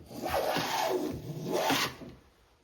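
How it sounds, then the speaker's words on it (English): A carriage maker's rebate plane shaves wood in two rasping strokes, a longer pass then a shorter one, each a close, scratchy hiss that fades to quiet at the end. "it's taking a good, decent shaving"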